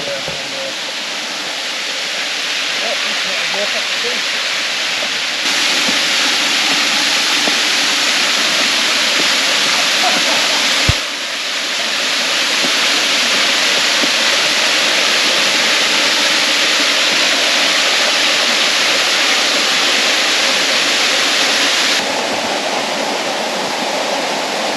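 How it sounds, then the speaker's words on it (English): Hogarth Falls, a waterfall in Tasmania's west-coast wilderness, roars as a steady, dense broadband rush of falling water, loud and continuous throughout with slight shifts in level. "I can hear the water."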